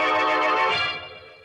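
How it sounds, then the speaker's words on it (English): An old-style telephone bell rings in a single sustained trill, then fades out, heard alone as a sound effect in a vintage radio mystery drama. "And then the phone rang again."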